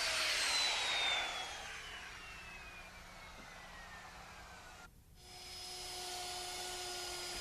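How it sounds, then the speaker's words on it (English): A router rounding over the ends of wooden deck rails: a high whining spin that winds down, drops off briefly, then whirs back up and holds, heard alone. "After the balusters are in, I like to add a few finishing touches with the router"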